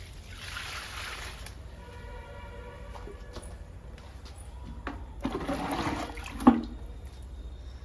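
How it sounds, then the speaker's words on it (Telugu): Homemade leaf-based liquid fertilizer is poured onto bushy indoor potted plants, a steady trickling pour with a brief stronger splash near the end. "ఈ రెండు మొక్కలకి ఇప్పుడు లిక్విడ్ ఇద్దాము"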